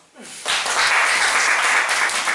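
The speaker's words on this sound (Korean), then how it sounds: "오케이, 박수." A lecture audience breaks into applause after a brief spoken cue: a quick rise into sustained, fairly loud clapping from many hands that holds steady to the end.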